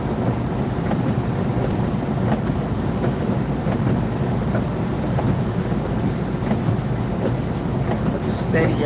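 A thunderstorm with heavy rain and strong wind roars around a car driving through a Georgia storm, a steady dense rumble and buffeting wind noise throughout, loud and close, with occasional faint crackles.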